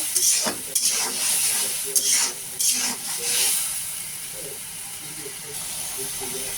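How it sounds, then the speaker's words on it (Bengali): Salted spice paste sautéed in a pan for a hilsa fish and tomato dish: loud, close sizzling and hissing broken by repeated scraping stirs, then settling into an even fry. "আমি মশলাটা কিছুক্ষণ কষিয়ে নেব"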